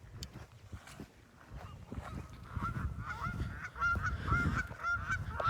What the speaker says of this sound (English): Yes, geese are loud